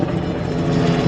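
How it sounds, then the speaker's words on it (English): A helicopter flies overhead with a continuous, close rotor-and-engine drone that stays steady and fairly loud, with no talking. "As the helicopter goes overhead"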